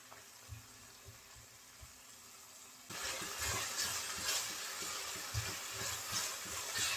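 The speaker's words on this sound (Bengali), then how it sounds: "নেড়ে চেড়ে আমি টমেটোটা ভেজে নিয়েছি" Fresh ripe tomatoes fry and sizzle in a pan for a tomato egg soup, a soft low hiss that swells into a louder, steady crackle partway through, with faint clinks and stirring scrapes underneath.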